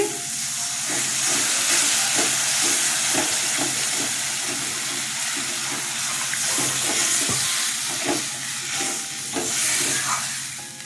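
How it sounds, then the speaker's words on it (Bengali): Water is poured into sizzling fried masala for a Bengali mustard fish curry, giving a steady loud hiss and crackle of steam throughout, with no voices. "আমার কষানো হয়ে গেছে জল দিয়ে দিচ্ছি"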